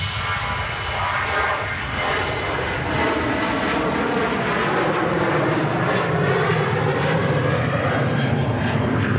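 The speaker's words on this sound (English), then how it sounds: "Ryanair departing, just on the rotation." Ryanair jet airliner taking off at Manchester Airport, a loud continuous engine roar that stays steady and close throughout, with no talk over it.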